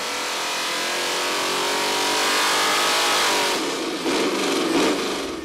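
A Chevy crate 427 V8 on nitrous, running on an engine dyno, roars at sustained high revs as a dense, loud, continuous drone that climbs slightly before easing off near the end, with no voices.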